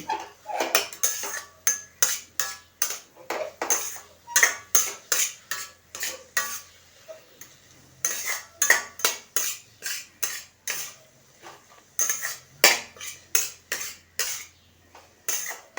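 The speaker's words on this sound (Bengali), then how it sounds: "দিয়ে আবার এটাকে এরকমভাবে ভালোভাবে মিশিয়ে নেব।" Cauliflower paratha filling with garam masala is stirred in a pan, a utensil scraping and clinking against the metal in a steady series of short strokes, close and fairly loud, with brief pauses and no talk.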